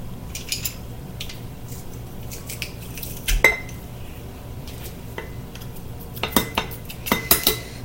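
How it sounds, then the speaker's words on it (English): Fresh ginger gets squeezed through a metal garlic press, heard as scattered sharp metallic clicks and clanks against a quiet kitchen background, with a cluster of louder knocks toward the end. "I'm just going to put that through the garlic press real quick."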